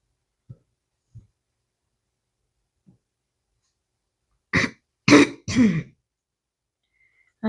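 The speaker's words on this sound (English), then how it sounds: "I have a bad cough and I don't like it." After a few faint clicks, a person coughs three times in quick succession, close and fairly loud, with another cough starting at the end.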